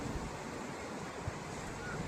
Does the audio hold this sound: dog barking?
no